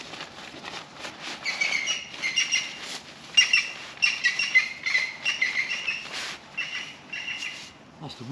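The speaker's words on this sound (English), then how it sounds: "That's the woodpecker." Birds chirp and call outdoors at an autumn bivouac camp, with a woodpecker among them, a steady busy stream of tweets and trills with faint insect-like buzzing in the background.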